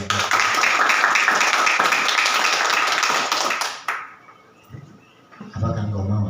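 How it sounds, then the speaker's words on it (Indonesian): A church congregation claps and applauds loudly for several seconds, then the applause fades and a voice speaks. "Beri tepuk tangan yang paling meriah."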